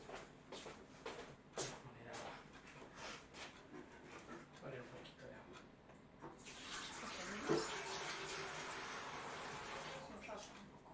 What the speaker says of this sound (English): So I'm gonna go ahead and put some water in here now.